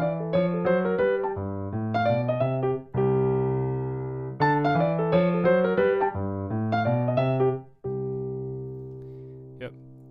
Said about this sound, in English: If you want to hear it with a walking bass,